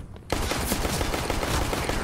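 Glock pistol fire in Counter-Strike: Global Offensive, a sudden burst of rapid, dense shots starting after a brief quiet moment and continuing loudly to the end.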